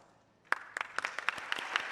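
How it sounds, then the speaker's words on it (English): Applause starts suddenly after a brief quiet and builds into quick, scattered clapping from an audience greeting new Chinese National Honor Society inductees at a school prize day. "we'll give you a round of applause"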